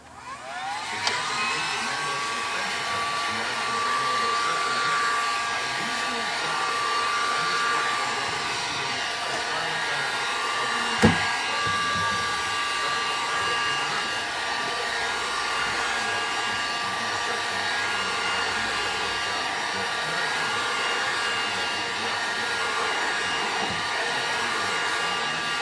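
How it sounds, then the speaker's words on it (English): A heat gun set to high blows steadily at close range for a laptop touchscreen repair, a constant whooshing motor hum with a faint whine on top, broken once by a brief click near the middle. "Get a heat gun. Put it on high."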